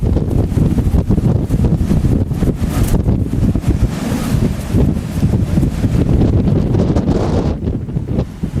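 A strong storm gust batters a boat riding at anchor off Hawaii, a loud, continuous roaring rush of wind buffeting the microphone for the whole stretch, with no voices.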